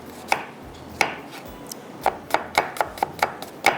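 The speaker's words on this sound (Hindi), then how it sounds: "इतनी देर में मैंने कहा मैं प्याज की कटिंग कर लेती हूँ" Onion being finely chopped with a knife on a board: a few scattered chops, then a quick steady run of close, crisp knife strikes, with no talking.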